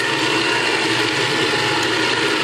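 A LINKChef cold press juicer slowly crushing grapefruit gives off a continuous close-up mechanical grinding and churning with a faint ratcheting texture, with no talking.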